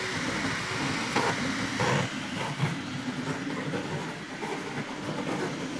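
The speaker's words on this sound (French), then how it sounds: "c'est plus au niveau des déplacements de la tête d'extrusion que se situe particulièrement le bruit de cette machine" Anycubic Kobra 2 Pro 3D printer extruder head moving, a faint steady mechanical whir and rattle with small rhythmic clicks as the head shifts, heard close and alone.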